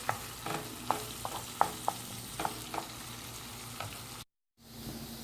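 Onions being stirred and fried golden brown in butter for nihari, with a steady sizzle and repeated scraping stir strokes in an irregular rhythm, close and moderate, briefly cutting out near the end.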